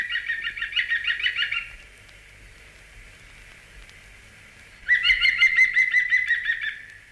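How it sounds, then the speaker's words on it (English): A green woodpecker gives its loud laughing yaffle from a garden lawn, two rapid ringing bursts of repeated notes with a quiet pause between them, close and clear with no talk. "Call that yaffling, don't you?"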